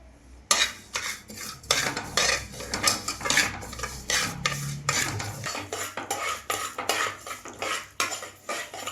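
About four spoons of poppy seeds and three spoons of sesame seeds roast in a pan for a sugar-free dry fruit burfi, stirred with a spoon: close, continuous scraping and rattling metal strokes in an uneven rhythm.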